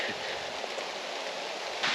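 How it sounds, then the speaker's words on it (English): Rain falls steadily on a wooded hiking trail at Savage Gulf, a soft, even hiss of drops on leaves and ground that holds constant throughout with no voices. "So it has just started to rain."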